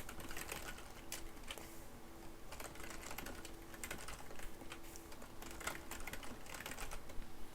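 Typing on a computer keyboard while building a process-style SmartArt diagram in PowerPoint: a steady, close run of light key clicks with irregular rhythm continues throughout, with no talking.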